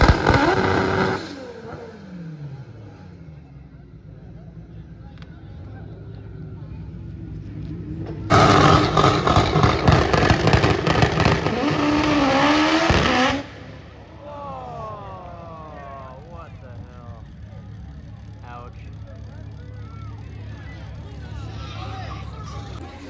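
An all-wheel-drive Speedfactory B-series hatchback race car at an import drag racing event accelerates hard in one loud burst of about five seconds, rising over background crowd chatter and engine noise before dropping away.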